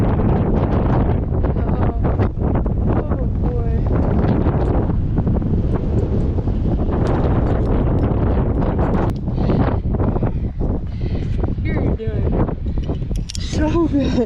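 Strong wind buffeting a microphone on an exposed rock climb at Seneca Rocks, loud continuous roaring gusts that swell and dip, with a voice talking intermittently underneath.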